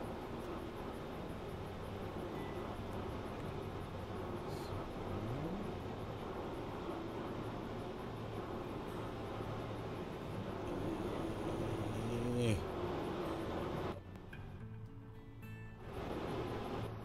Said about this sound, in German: dann lassen wir den Motor einfach mal laufen